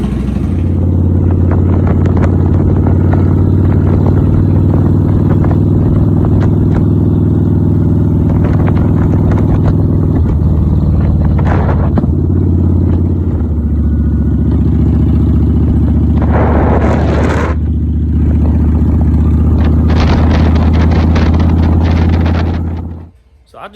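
A Kawasaki Vulcan 900 motorcycle engine on a test ride, a loud steady low rumble with shifts in pitch and gusts of wind noise over about twenty seconds, easing off at the end.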